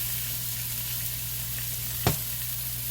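Bacon-wrapped stuffed chicken breasts sizzle in a pan with a steady, close hiss over a low hum, broken once by a single sharp knock about two seconds in.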